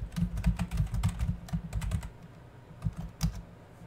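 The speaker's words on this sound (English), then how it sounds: "It helps if I actually type in the right password." A password typed on a computer keyboard: a quick close burst of key clicks for about two seconds, then a few scattered keystrokes, quiet and with no talk.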